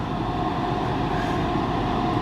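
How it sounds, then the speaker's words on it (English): A train rounds a bend nearby, its steady rumble and rail noise holding loud and even throughout without any talk. "Nothing like the sound of an approaching train."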